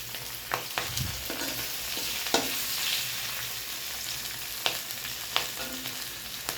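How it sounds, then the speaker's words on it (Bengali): Whole garam masala spices and broken green chillies sizzling in hot oil for a Bengali tempering, a steady crackling fry with occasional sharper pops, close and alone. "আর গোটা গরম মশলা ফোড়নে আমি দিয়ে দিলাম"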